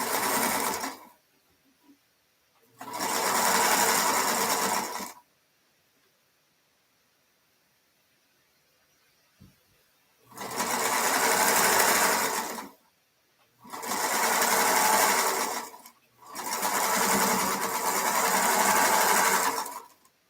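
Sewing machine running in four loud, close bursts of steady whirring, separated by stretches of near silence.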